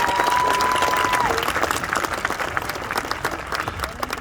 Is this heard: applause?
yes